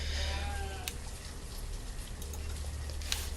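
Sheep bleating in the village-building game Banished, a few calls faint over a steady low farm and ambient game backdrop.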